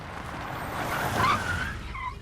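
A car pulls away fast, its engine and tires swelling to a brief squealing peak before fading, heard alone with no talking.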